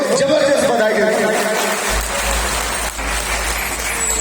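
An audience at a business seminar claps, a dense, loud wash of applause that carries on steadily. A voice rises over it at the start, and a low rumble joins partway through.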